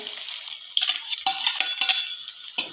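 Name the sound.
chopped onion frying in hot oil with cumin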